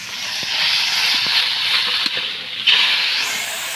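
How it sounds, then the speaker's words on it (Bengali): Fish sizzling in hot oil as it is flipped in the pan, a loud, close, steady hiss with a few soft knocks and a brief surge near the end. "এখন আমি উল্টেই দেবো এইভাবে"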